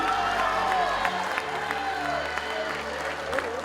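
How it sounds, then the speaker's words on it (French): An audience at an award ceremony breaks into steady applause with scattered cheers and whoops, a dense wash of clapping sustained throughout. "On applaudit."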